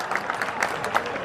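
An audience at a Marwari kavi sammelan poetry recital claps, a short burst of crowd applause lasting just over a second.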